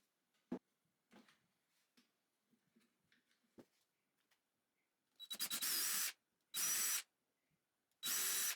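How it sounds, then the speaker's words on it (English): Screws are driven into the back of glued, clamped wooden 2x4 skis: faint knocks and handling noises first, then three loud drill bursts, the first longest and slightly pulsing, the last two short. "drive 4 screws on the back"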